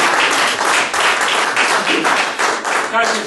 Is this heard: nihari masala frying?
no